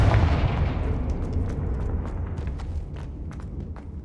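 The Confringo fire spell erupts in Hogwarts Legacy as a deep, booming explosion that hits hard at the start and then rolls into a long, slowly fading rumble.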